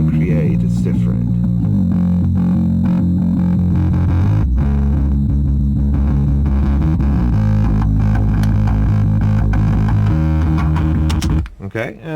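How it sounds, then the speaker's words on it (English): A recorded track runs through a heavy distortion effect for reamping, thick and loud with buzzing, continuous tone. It cuts out abruptly just before the end. "Even just the amount of distortion that you can create is different."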